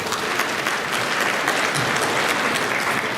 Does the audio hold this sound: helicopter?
no